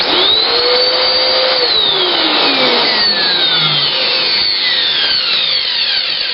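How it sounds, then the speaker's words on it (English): Shark vacuum cleaner motor running steadily and loudly on its own after being unclogged, a constant close whine with rising and falling pitch sweeps throughout. "Motor seems to be sucking fine."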